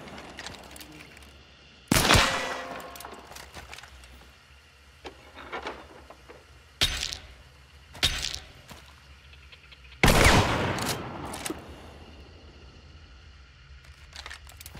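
Shotgun firing slugs from the shorty in the video game Hunt: Showdown, a few loud, sharp blasts spaced seconds apart with ringing tails, plus fainter distant shots between them.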